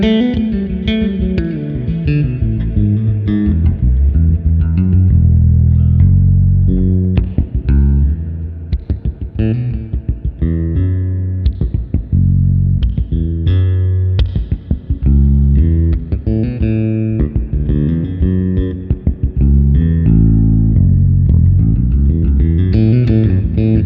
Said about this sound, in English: the reverb comes in right after that, so it doesn't muddy up your initial note